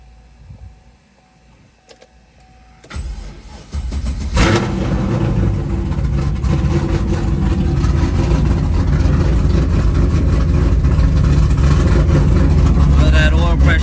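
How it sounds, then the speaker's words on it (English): A built 416 stroker LS3 V8 cold-starts with a sudden loud catch, then settles into a steady, rough, heavy idle that stays close and loud throughout, with a few faint clicks before it fires. "let's get a cold start on this thing"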